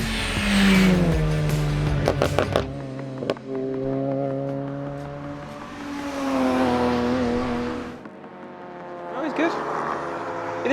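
BTCC touring race car lapping a circuit, its engine droning and shifting pitch as it passes, with people talking over the motor.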